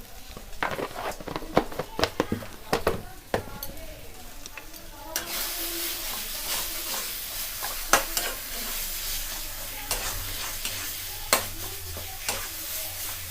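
Long bean kachori filling frying in a pan with salt and sugar, stirred steadily: a continuous close sizzle under repeated scraping and clacking of a spoon against the pan, with no voices.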